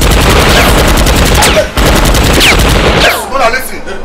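Loud gunfire in a Nigerian action movie scene, rapid bursts of shots and booms filling most of the moment, with shouted voices breaking through between volleys.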